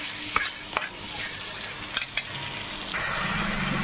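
Spice paste for a pabda fish curry fries in a pan while a spoon scrapes through it a few times, sharp stirring strokes over a steady sizzle that swells louder near the end.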